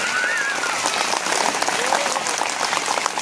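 Strong, steady applause from an audience at a school orchestra event in Challakere taluk fills the space with dense, continuous clapping, with a few brief voices faintly mixed in.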